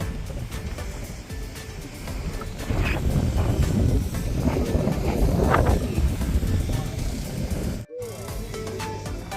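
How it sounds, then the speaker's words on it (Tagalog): Strong wind gusts rumble and buffet outdoors, a loud continuous roar with swelling gusts and a brief dropout near the end. "Ang hangin, oh."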